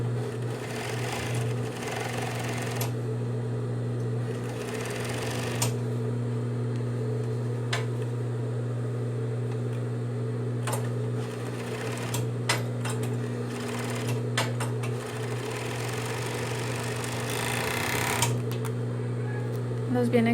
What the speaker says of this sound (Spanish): aquí seguimos haciendo entonces el filete o la costura zigzag